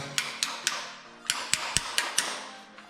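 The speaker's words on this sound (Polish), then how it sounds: "bierzemy teraz młotek" A hammer strikes about nine times to seat a clamp on a cable at a hitch hook. The sharp metallic taps come close and clear, in uneven bursts.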